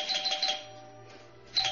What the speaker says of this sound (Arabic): ضغطت على الجرس